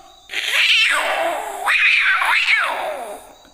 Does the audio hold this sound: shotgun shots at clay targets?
no